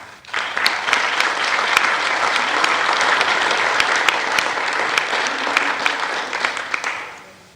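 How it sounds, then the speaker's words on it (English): An audience at a church diocesan business session applauds for about seven seconds. The clapping is loud, dense and sustained, then fades at the end. "and they deserve a round of applause."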